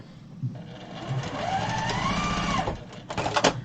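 A sewing machine backstitches through a Broken Dishes quilt, running in one close, continuous whirring pass and then a few short, sharper bursts at the end, with no voices.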